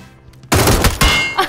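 Video game gunfire bursts in sudden and loud after a half second of near quiet, a dense rattling barrage that holds for about a second before easing.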